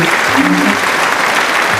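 Audience applause at a quiz contest event, a dense steady clapping from a crowd that fills the short stretch at close range.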